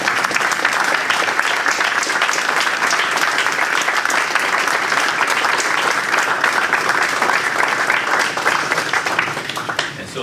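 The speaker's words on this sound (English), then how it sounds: "So let's give this young man a round of applause." Loud, continuous applause from an alumni panel audience welcoming a young man to the front, a dense unbroken wash of clapping that eases slightly at the very end.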